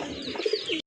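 Pigeons in a seller's collection cooing in a short burst of two low, rounded notes amid light ambient chatter of other birds, fairly close.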